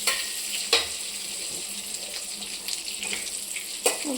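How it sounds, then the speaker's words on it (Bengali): Potato pieces frying in a kadai give a steady, close hiss of oil, broken by a few soft clicks and clinks of a utensil against the pan, with no talking. "এখন আলু কটা ভেজে নিচ্ছি"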